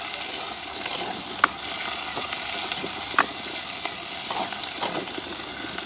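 Garlic and curry leaves frying in hot oil in a pan, a steady bright sizzle throughout, punctuated by several sharp clicks and scrapes as they are stirred, close and with no voices.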